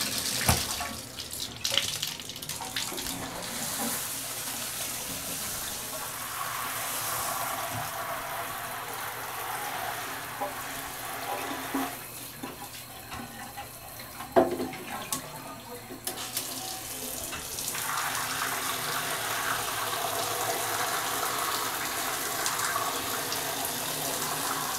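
Water gushes steadily from a tap onto a computer keyboard being washed, a continuous splashing that shifts in tone a few times when the flow or angle changes.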